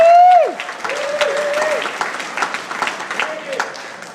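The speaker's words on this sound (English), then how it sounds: "So give yourselves a round of applause." An audience at a speech breaks into applause right after a voice stops, the clapping moderately dense and fairly close, carrying on steadily to the end.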